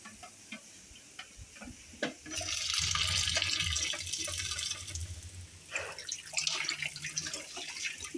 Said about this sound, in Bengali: ডিম সিদ্ধের পানিটা সিঙ্কে এভাবে দিয়ে দিলে সিঙ্কের জীবাণু মুক্ত হয়